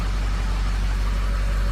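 A Ford 7.3 diesel engine running on an F-550 with low-oil-pressure trouble, a loud, steady, close rumble with a dense even clatter of injectors, no pauses.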